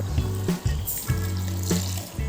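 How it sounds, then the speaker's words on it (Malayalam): Water is poured into a beef roast mixture in a cooking pot, splashing and trickling in short bursts over a low steady hum. "ആവശ്യത്തിന് വെള്ളം ചേർത്തതുകൊണ്ട് കുഴപ്പമൊന്നുമില്ല ഇത്രയും വെള്ളവും കൂടി ചേർത്ത്"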